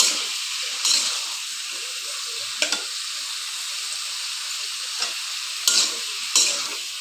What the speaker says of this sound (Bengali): এটাকে ভালো করে ভেজে নিচ্ছি।